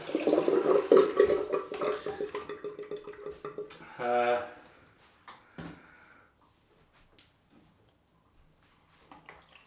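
Water from a tap runs into a shaving bowl, splashing and gurgling loudly at first, then cutting off, followed by a few quieter drips and small clunks near the basin.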